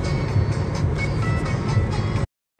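A car cruising along a central highway at night, with a steady, loud low-pitched road and engine rumble that runs continuously before cutting off abruptly near the end.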